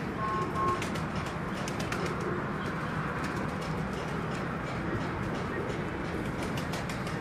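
Soft pigeon coos repeat over a steady background hum, with faint fluttering; no one speaks.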